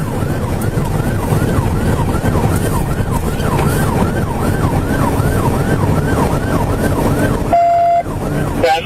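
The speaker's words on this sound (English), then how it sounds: "Trooper Bird sounded the siren continuously to warn people." A police car siren wails, cycling up and down repeatedly over road and engine noise during a chase on Interstate 440, loud and close, ending with a brief different electronic tone.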